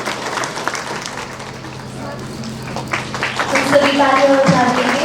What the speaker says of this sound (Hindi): हम तालियों के साथ उनका हमारे बीच में स्वागत करते हैं